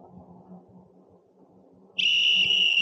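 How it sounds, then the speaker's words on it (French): A police-whistle horn fitted to a snow vehicle blasts a loud, steady shrill tone after a quiet stretch of low engine rumble, holding on to the end. "klaxon sifflet de police. Je vais vous le faire écouter."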